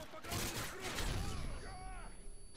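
Gunfire and a grenade blast from a shooter video game, with dense broadband bursts and sweeping game effects under steady commentary talk.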